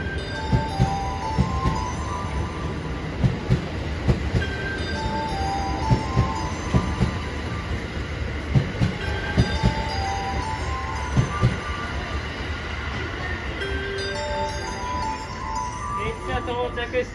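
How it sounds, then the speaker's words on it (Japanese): A Takasaki Line train pulls into a station platform in Japan, with rumbling wheels, squeals and clanks over a steady roar, while platform announcements play over the noise. "高原行きが到着しております。"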